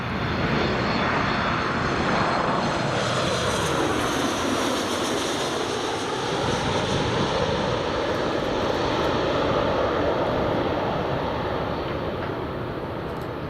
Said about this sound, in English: landing TUI Airways 737 MAX 8 Golf Tango Uniform Mike Papa here at Newcastle Airport for the very first time.